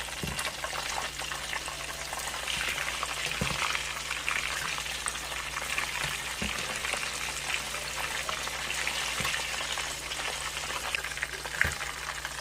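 Chicken thighs fry in pure lard and Crisco shortening, a dense continuous crackling hiss of hot fat, steady and loud throughout with occasional faint knocks, no talking.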